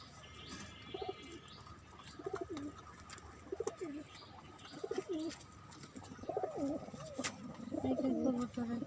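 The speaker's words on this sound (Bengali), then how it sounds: "এখানে আছে একটা লাল সাদা কবুতর।" A red-and-white domestic pigeon in a loft gives repeated rolling coos about once a second, close and clear, with other birds chirping faintly behind.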